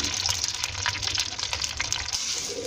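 Two medium onions fry in about a cup of hot ghee, a steady, dense sizzle that holds at an even level throughout, close and fairly loud, with no voices.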